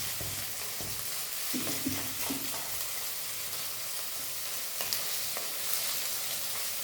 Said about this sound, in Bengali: পেঁয়াজটা একটু ভেজে নিতে হবে,